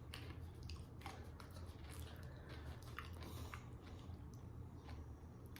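Crunchy bites and chewing of a green exotic snack, eaten by people biting at the same moment, with crisp crackles repeating over a steady, noisy background and no talking.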